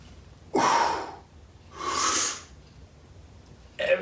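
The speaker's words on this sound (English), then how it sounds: "it's obviously a breath in to brace your core" Deep breaths drawn in to brace the core during a push press, two loud, close inhalations each about half a second long with a pause between, then the start of a third, and no talk.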